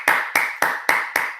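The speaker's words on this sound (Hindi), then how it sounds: "Big clap." Five sharp, evenly spaced claps ring out close and loud at a studio gathering, each snapping crisply before a short decay, with no talk over them.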